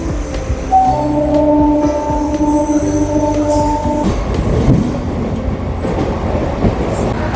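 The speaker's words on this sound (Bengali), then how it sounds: "ডানকুনি থেকে ট্রেন ছাড়লো" A local train pulls out of Dankuni junction on the Howrah–Baruipara line, its steady rumble and rail noise running throughout, with a few tonal squeals and hums in the first half before the clatter of the wheels takes over.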